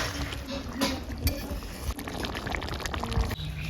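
Chicken curry with potatoes and freshly added garam masala is stirred in a cooking pot, producing continuous wet scraping and thick sloshing with irregular louder strokes.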